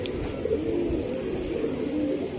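Pigeons coo at a pigeon market, a steady low throaty murmur of many birds close by, continuous with no talk.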